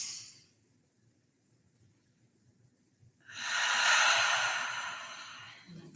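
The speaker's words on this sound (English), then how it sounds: "take a deep breath in" A single slow, deep inhalation taken during a grief meditation, faint at first then swelling into a clear, close breathy rush that lingers and tapers off, heard alone with no talking.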